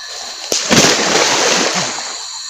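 Person jumping into a jungle river: one sharp, loud splash, followed by about a second and a half of spraying and sloshing water close by.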